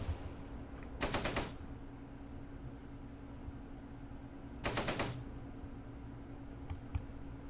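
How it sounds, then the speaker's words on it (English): Machine gun fire in the Close Combat video game arrives in two short, rapid bursts several seconds apart, moderately distant over a steady low hum. "Right now we're just under machine gun fire."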